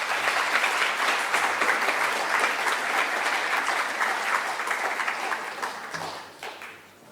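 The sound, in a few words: audience applause for award recipient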